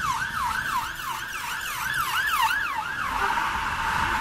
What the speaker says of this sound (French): Ça, c'est les sirènes. Écoutez.